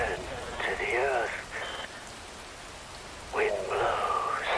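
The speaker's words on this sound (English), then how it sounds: "Rain falls." Steady rain hiss in Metal Gear Rising: Revengeance, a constant wash of falling water running beneath a deep, slow spoken voice.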